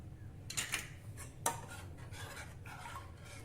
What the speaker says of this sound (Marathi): हे सर्व आपल्याला जरा ढवळून घ्यायचं आहे